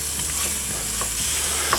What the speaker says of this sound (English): we're going to break that up so that it fries nice and evenly